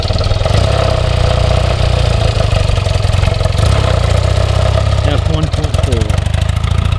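A 1982 BMW R65LS motorcycle engine runs loud and close during a ride-by, a steady mid-pitched drone with a rising, shifting tone near the end.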